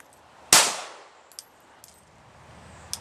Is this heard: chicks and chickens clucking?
no